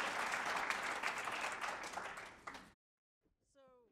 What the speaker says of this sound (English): give Harry a round of applause, ladies and gentlemen